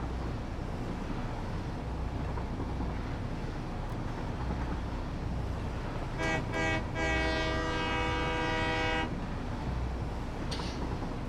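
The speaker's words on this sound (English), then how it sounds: "that reduced the sound of the trains" A train in the factory-building video game Satisfactory: a steady mechanical rumble, with a single loud horn blast lasting about three seconds midway through.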